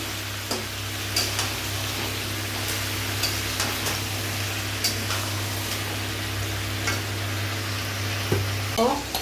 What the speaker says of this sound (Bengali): এবারে একটু নেড়ে নেব ভালো করে একটু কিছুক্ষণ ভাজা ভাজা হতে দেব আলু পটলটাকে